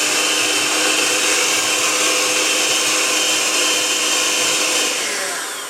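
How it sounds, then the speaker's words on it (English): Steady, loud whir of an electric mixer whisking low-carb croissant batter toward stiff peaks, a continuous broadband drone that holds evenly for several seconds before easing off slightly at the end. "so let's continue to whisk"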